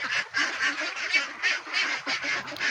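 Pet ducks quacking while eating rice bran feed, a close run of repeated nasal quacks and honks in an uneven rhythm, fairly loud and with no talk over them.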